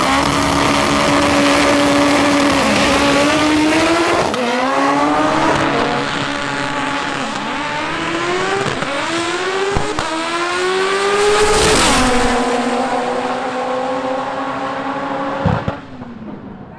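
A 1700bhp all-wheel-drive Honda Integra drag car running on 80psi of boost makes a loud, continuous engine howl that climbs in pitch, drops at each gear change and climbs again, then cuts off near the end.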